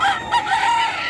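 A rooster at a chicken market in Bocaue gives a short, loud, nearby crow blended with clucking, lasting about a second.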